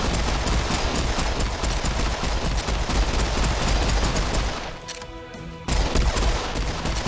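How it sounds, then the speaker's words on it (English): A pistol in Serious Sam 4 fires a rapid, dense string of loud shots amid chaotic game combat. The barrage pauses for about a second, then resumes. "And I can snipe with this pistol."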